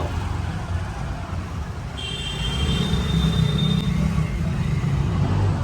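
Auto-rickshaw ride through Ujjain, a steady low engine rumble and road noise close up, with a brief high electronic beep or horn tone partway through and no talk.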